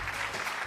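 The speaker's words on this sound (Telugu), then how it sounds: "క్లాప్స్." Short burst of audience applause for a solo dance performance on a stage show, a brief, fairly soft wash of many hands clapping with no voices over it.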